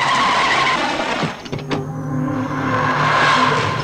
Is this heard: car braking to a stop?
yes